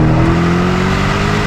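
An Aston Martin DBX SUV accelerates hard at full throttle, its engine note loud and close, a continuous droning roar with a slowly rising pitch throughout the short run, with no talking.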